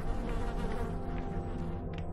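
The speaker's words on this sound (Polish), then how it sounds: "Słyszę muchy." Steady droning buzz of flies swarming over a corpse in the horror video game Afterfall: InSanity, a continuous dense hum that fills the scene without pause.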